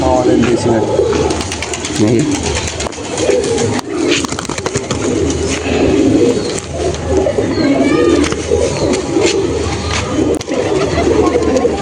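Chotial Madras pigeons, a pair in a loft, cooing steadily in low throaty rolls, close and fairly loud, with other birds and people talking nearby.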